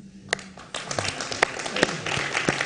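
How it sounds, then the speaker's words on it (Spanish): An audience at a poetry reading claps for a poet, with scattered, uneven hand claps building into brief applause while someone speaks over it. "aplaudimos al poeta"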